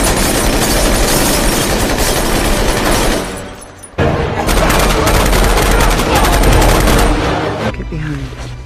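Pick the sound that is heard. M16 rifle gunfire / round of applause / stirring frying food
M16 rifle gunfire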